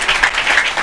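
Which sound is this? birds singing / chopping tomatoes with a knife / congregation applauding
congregation applauding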